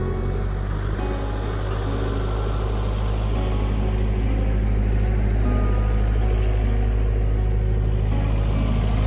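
A tractor engine idles steadily with a deep, continuous drone while moving round hay bales into a feeder on an Australian cattle farm, loud and close throughout with no talking.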